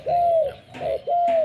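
A spotted dove coos in three drawn-out, hollow notes, with short pauses between them, close and clear.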